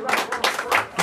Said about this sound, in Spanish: Y el aplauso bien bonito para Gaby.